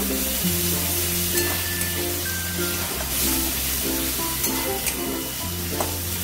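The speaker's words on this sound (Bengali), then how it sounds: "একটু ভালো করে ফ্রাই করে নেব যাতে কাঁচা গন্ধ চলে যায়।" Onion with ginger and garlic paste frying in a pan, a steady close sizzle with stirring scrapes and small crackles throughout, and faint tonal background sounds underneath.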